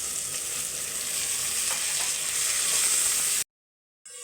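Sliced onions and chopped tomatoes fry in a hot pan with a loud, steady sizzle that runs unbroken for about three seconds, then stops abruptly and returns faintly at the end.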